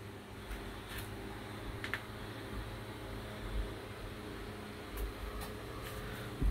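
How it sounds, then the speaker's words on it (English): Fans running in a garden, a steady broadband whoosh of moving air with a low hum underneath and a few faint clicks scattered through. "Hopefully you can hear me over the fans."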